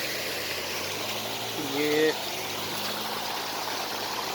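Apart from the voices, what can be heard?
mountain stream water flowing down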